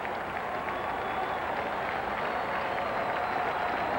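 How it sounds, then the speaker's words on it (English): A crowd at a baseball stadium during the 1986 National League Championship Series between the Astros and Mets reacts after a foul ball, a steady, dense roar of many voices filling the air throughout. "that's what you get from the crowd, that ooh, and you foul it back"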